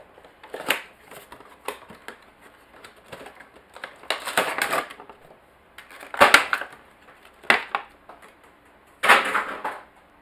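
Crinkly plastic and cardboard packaging of a Star Wars Krrsantan Funko Pop figure being handled and pulled open, in several short bursts of crackling and rustling with quiet pauses between, close by and without speech.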